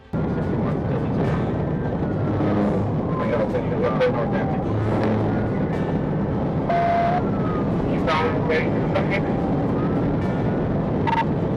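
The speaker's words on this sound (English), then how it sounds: "Waiting briefly for backup, he activates lights and sirens." A police car's siren wails in rising and falling sweeps during a high-speed chase after a fleeing gold Jeep, layered over heavy road and engine noise, with voices talking intermittently.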